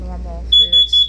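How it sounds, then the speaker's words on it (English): Three short, shrill electronic beeps from a smoke alarm sound in quick succession, cutting in just after a brief bit of speech. "sorry, that was the alarm."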